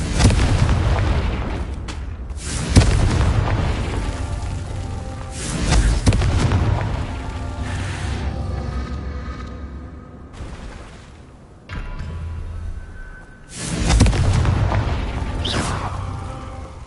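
Confringo spell blasts erupt in Hogwarts Legacy, several loud booming explosions spaced a few seconds apart, each with a sharp onset and a rolling decay, along with crackling debris and background rumble.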